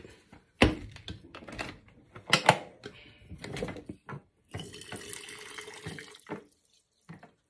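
Hot water poured into a cup for a clove and rosemary drink, with clinks and taps around it, a steady splashing stream in the middle, close and fairly quiet.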